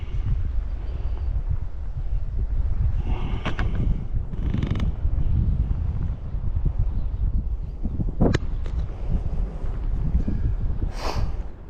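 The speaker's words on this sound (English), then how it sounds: "It's this wind's making a nightmare to try to pole." Strong wind buffets the microphone with a steady low roar while a boat is poled through flooded grass, with a few brief creaks and knocks from the pole and hull.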